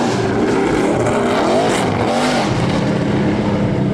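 A Shelby Daytona Coupe at the Goodwood turnaround, its engine revving loudly and close with wavering pitch as tyres scrub and squeal through the tight turn.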